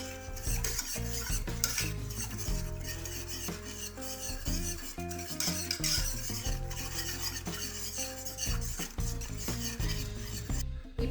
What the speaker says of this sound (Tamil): இப்போது நான் எல்லா தேங்காய் பாலையும் அதில் விட்டு எல்லாம் நல்லா கலந்துட்டேன்.